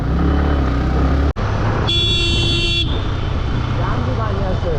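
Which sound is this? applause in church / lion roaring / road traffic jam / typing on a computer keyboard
road traffic jam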